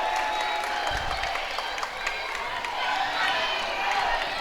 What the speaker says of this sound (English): Some noise now from the crowd.